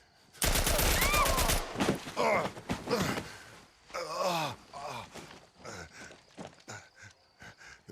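Gunfire in The Last of Us Part 1 video game: a dense loud burst of shots up front, followed by scattered reports mixed with groans, gasps and sighs from characters.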